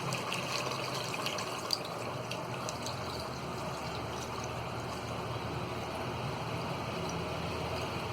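Cooking water from lamb trotters being poured into a pot, a steady gushing splash of liquid running continuously and fairly quietly from start to end.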